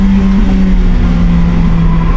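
A car at an autocross event at Lime Rock Park holds a loud, steady engine drone under throttle, close and continuous with no voices.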